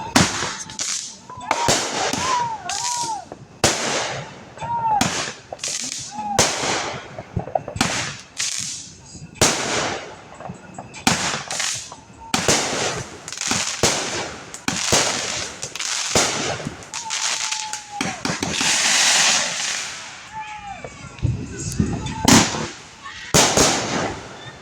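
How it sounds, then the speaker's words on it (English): Fireworks burst repeatedly on a night outdoors, a rapid irregular series of loud cracks and pops with whistling rises between them, continuing for the whole stretch without pause. "She's not recording the fireworks"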